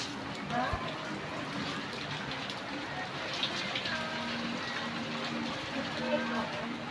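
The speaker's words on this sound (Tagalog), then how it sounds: "Maulan ang ating Pasko." Steady rain falling on Christmas Day, a constant close patter with drips and a soft wash throughout, while a person talks over it.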